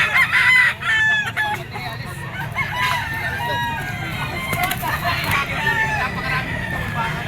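A young Kelso stag rooster crows several times, loud and fairly near, its drawn-out calls mixed with clucking from other fowl and someone talking in the background.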